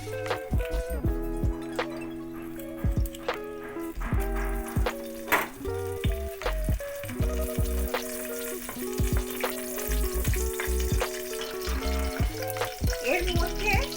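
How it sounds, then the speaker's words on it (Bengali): A dried red chili and bay leaf are tempered in hot oil left from frying turmeric-salted potatoes for a Bangladeshi chicken dish, giving a steady sizzle with scattered stirring clinks, partly under loud background music. "সেই তেলে একটা শুকনো লঙ্কা ফোড়ন দিলাম"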